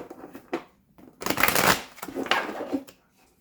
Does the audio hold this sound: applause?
no